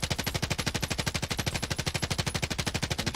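Rapid automatic gunfire in Call of Duty Warzone, a steady burst of evenly spaced shots rattling loudly without pause for several seconds.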